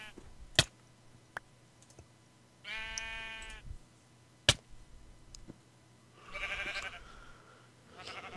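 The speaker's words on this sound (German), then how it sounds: "Schafe." Sheep in the Minecraft video game give two clear bleats, one near 3 seconds and a longer one near 6.5 seconds, with sharp game clicks and thuds in between and no talk.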